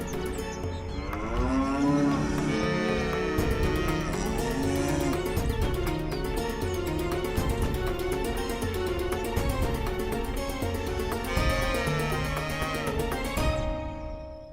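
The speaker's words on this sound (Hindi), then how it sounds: "ये गैया अचानक से इतना क्यों रंभा रही हैं?" Several cows moo loudly and at length, their long drawn-out lowing calls overlapping one after another over a dense musical background with no talking.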